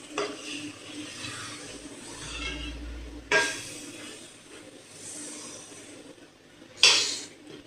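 A spoon stirs moong dal halwa in a pan, faint scraping and soft sizzling with a couple of sharper metallic knocks against the pan, close and quiet, no talking.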